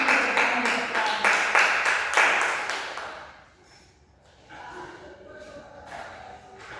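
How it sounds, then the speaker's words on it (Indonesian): Classmates in a group guidance session clap for peers after a role play, a burst of rhythmic clapping that fades out, followed by quieter room noise and faint talk. "kita berikan tepuk tangan untuk teman-teman"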